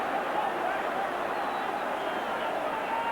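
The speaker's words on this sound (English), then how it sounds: "The ground is humming now as the crowd debate that." A packed football ground at a 1982 Everton v Liverpool match hums with a continuous, distant crowd murmur, a dense babble of indistinct voices with no single shout standing out.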